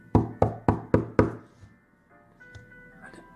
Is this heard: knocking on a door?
yes